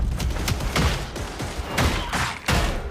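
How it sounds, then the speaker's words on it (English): Enemy gunfire in the video game Warhammer 40,000: Darktide, a rapid string of sharp shots in quick succession, close and moderately loud. "You're shooting at us!"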